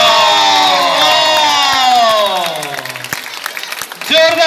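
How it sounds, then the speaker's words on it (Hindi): Applause and cheering from an audience after girls perform a cartwheel at a talent show, strong at first and thinning toward the end, with a loud voice speaking over it throughout and a fresh surge of clapping near the close. "जोरदार तालियां इस कार्ट व्हील के लिए भी"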